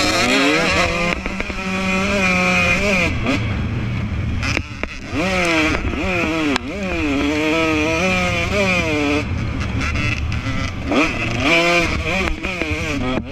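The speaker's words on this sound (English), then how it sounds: "Adam is about to start on his KTM 150." KTM 150 dirt bike at a harescramble race start, its engine revving hard in repeated rising and falling bursts, loud and close, with other bikes running nearby.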